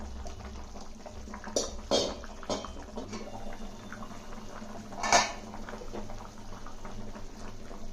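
Spoon scrapes and taps against a bowl while a thick, wet lentil flour batter, ground in a mixer, is stirred with water, with occasional sharper clinks and a soft liquid churn.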